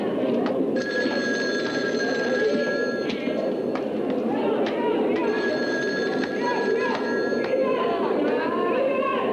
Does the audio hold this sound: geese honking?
no